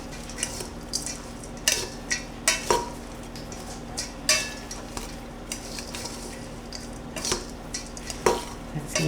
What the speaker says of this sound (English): I'm going to use a spatula to stir it all